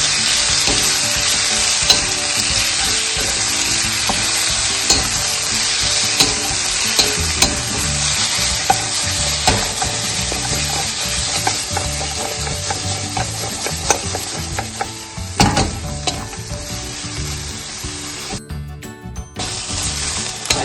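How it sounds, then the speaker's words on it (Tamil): Vegetables fry loudly and steadily in a hot pan for Indian-style red sauce pasta, with continuous close sizzling, frequent stirring scrapes and occasional metallic clinks throughout. "ஹீட்டில் வச்சு ஃப்ரை பண்ணிக்கோங்க"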